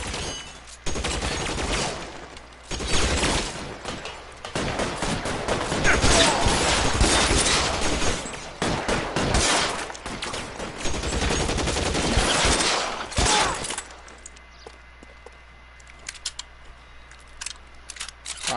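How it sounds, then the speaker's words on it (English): A shootout erupts in L.A. Noire as loud, dense bursts of gunfire crackle for about fourteen seconds, with rapid volleys and scattered single shots up close, before fading to a quieter tail of occasional pops. "I've been involved in a shooting."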